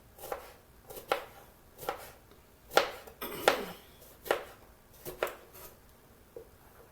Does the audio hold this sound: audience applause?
no